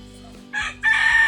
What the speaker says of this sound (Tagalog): Ayon, manok.